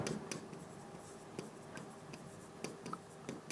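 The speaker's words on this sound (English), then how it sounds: "So if you want me to write, I can write down Nallagandla." A pen writing on paper, with quiet, close scratching strokes and light taps coming in short bursts over a faint room hush.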